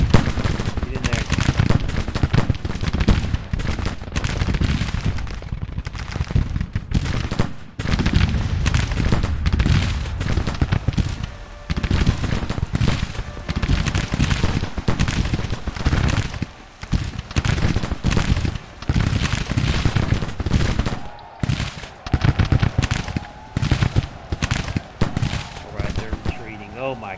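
Dense battle gunfire from Grand Tactician, a Civil War strategy game set in 1863, with massed rifle volleys and cannon booms crackling continuously for the whole stretch, loud and chaotic, while a voice talks over it at times.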